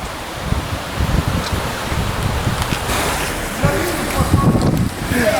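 The Orbiel river has burst its banks and is flooding a meadow at Conques-sur-Orbiel. Its water rushes steadily and loudly, buffeted by gusts of wind on the microphone, with faint voices in the background.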